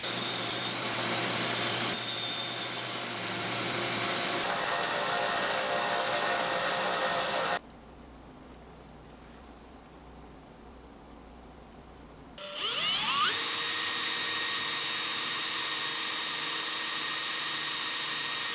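A power tool cuts a 3/8 inch eye socket into a 5-inch wooden crankbait blank 5/8 inch thick, giving a loud, steady whine and grinding rasp. The tool drops to a quieter hum in the middle, then rises again to a high, harsh spin.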